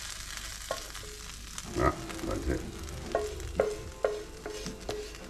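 Shrimp sautéing with garlic in a pan, a steady soft sizzle with scattered clinks and stirring scrapes of a utensil, a voice speaking briefly.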